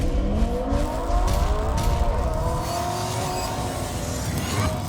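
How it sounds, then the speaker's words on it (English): Car engine revs hard, a loud close roar with rising and falling pitch sweeps as it accelerates, sustained for several seconds without any talk over it. "Rev up your engines!"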